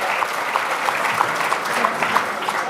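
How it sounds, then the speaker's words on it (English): An audience at an international World War II history conference gives a steady round of applause for two speakers, a continuous wash of clapping with faint voices mixed in. "Ladies and gentlemen, another round of applause for James Scott and Marie Vallejo."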